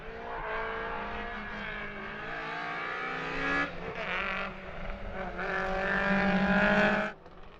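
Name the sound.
rally car driving sideways on a stage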